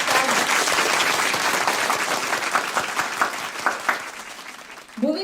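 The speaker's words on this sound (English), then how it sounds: "Give a round of applause for these young talents." A crowd at a cultural competition finale applauds young award winners, steady clapping that thins into scattered claps near the end before a voice begins.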